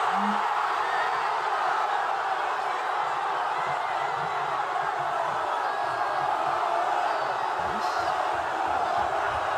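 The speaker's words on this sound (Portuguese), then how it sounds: "Vamos ver como é que a torcida reagiu, ó." At an official World Cup fan fest in Madrid, Spanish supporters celebrate a Ferran Torres extra-time goal against Argentina with a steady, distant roar of crowd noise, cheering and scattered shouts that holds evenly throughout.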